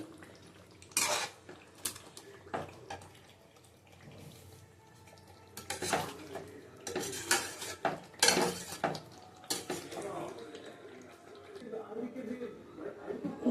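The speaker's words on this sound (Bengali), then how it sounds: "নাড়িয়ে দিই ওর মশলাটা" Spiced masala for chicken chaap stirred in a pan, with repeated loud metallic clanks and scrapes of a utensil against the pan in irregular bursts, separated by quieter stretches.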